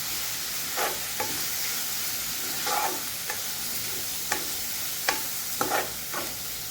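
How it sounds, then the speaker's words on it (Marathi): Grated coconut stirred into masala frying in a pan for Maharashtrian shev bhaji, with a soft constant sizzle and repeated sharp spoon scrapes at irregular intervals, close and alone without speech. "त्यानंतर जे मी खिसून घेतलेलं खोबरं आहे ते ॲड करते. हे आपण हलवून घेणार आहे."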